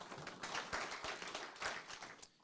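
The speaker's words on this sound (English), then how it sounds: "they all deserve a huge round of applause" An audience at a Strongsville GOP gathering claps for the board volunteers. It is a short, dense patter of many hands that stays fairly steady and moderately distant, then tails off at the end.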